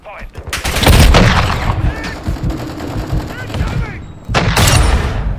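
Noob-tube grenade launcher blasts and rattling automatic gunfire in a Call of Duty MW2 match, loud repeated bursts and explosions coming in two heavy waves with a quieter stretch between, with a voice talking over the action.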